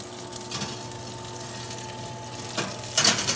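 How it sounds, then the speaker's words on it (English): Chicken breast sizzling in a hot pan, a soft steady crackle with a few louder spitting bursts near the end, heard alone and up close. "Rapidly sizzling."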